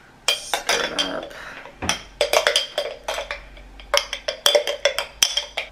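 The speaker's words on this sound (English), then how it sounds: "stir it up." A spoon stirs a Lindt chocolate latte in a mug, made with whipping cream, Chobani oat milk and sweet cream, giving close, rapid clinks against the sides in uneven bursts.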